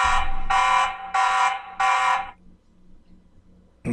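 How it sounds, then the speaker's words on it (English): A TP-Link Tapo pan-and-tilt smart camera siren sounds four loud, evenly spaced electronic beeps close up, then goes quiet before a short burst starts again at the end. "it started sirening on there, and the tone is just a beeping tone"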